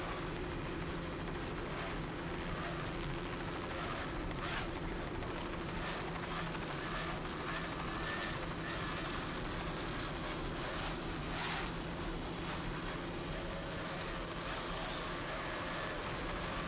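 The engines of two 32-foot Skater racing powerboats roar during a 1997 race, a loud, unbroken drone with rushing wind and water noise, heard without any voices.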